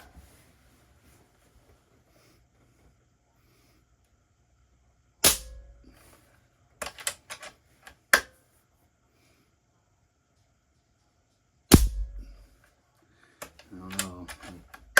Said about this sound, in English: It sounds really like it's shooting hard.